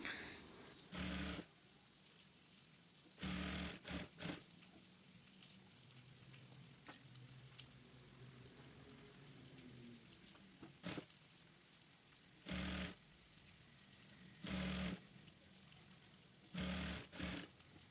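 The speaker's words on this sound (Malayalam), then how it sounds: "എന്നിട്ട് അത് സ്റ്റിച്ച് ചെയ്തെടുക്കാം" A sewing machine stitching abaya fabric runs in several short bursts of about a second each, with quiet pauses between them. The rapid mechanical whir sounds close, and no one talks.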